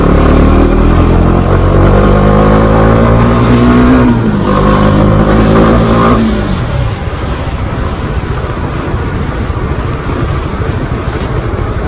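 Bajaj Dominar motorcycle accelerating hard on a highway, its loud engine note climbing steadily through the revs, then dropping into a steady roar mixed with rushing wind.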